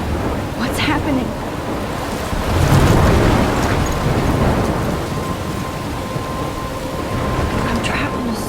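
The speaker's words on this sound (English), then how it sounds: "I'm trapped in a storm?" A thunderstorm in the video game Life Is Strange brings steady heavy rain hissing throughout, with deep rolling thunder swelling midway before easing back into the downpour.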